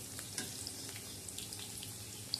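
Onion bhaji frying in hot oil, a soft continuous sizzle and crackle with small pops scattered through, heard close and fairly quiet with no talking.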